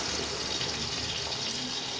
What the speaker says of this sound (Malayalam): അരച്ചെടുത്ത പൈനാപ്പിൾ നമ്മളിതിലോട്ട് ഒഴിക്കുകയാണ്.